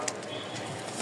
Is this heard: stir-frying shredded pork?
no